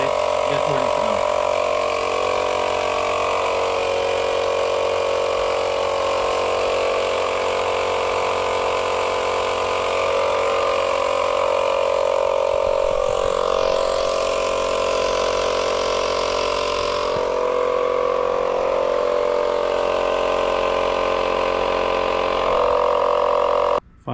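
An air compressor hums steadily while inflating a dirt bike tire to about 20 psi, a continuous close mechanical drone with slight shifts in tone lasting over twenty seconds, with no talking.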